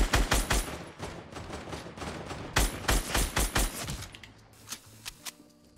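Gunfire in the video game Fortnite: rapid bursts of crisp shots in quick clusters, loud and close, thinning out into a few scattered single shots near the end.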